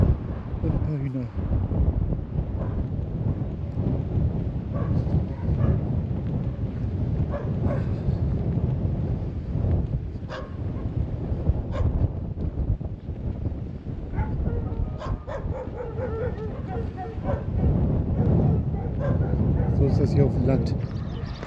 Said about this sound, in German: Da geht die Party ab mit den Hunden